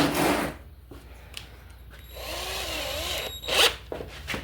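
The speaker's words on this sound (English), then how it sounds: "our drill battery's dead. Let me swap drills" A cordless drill sands Bondo body filler on a 1972 Ford Bronco, whirring in short uneven bursts with pitch changes as it slows and speeds up, close and fairly loud.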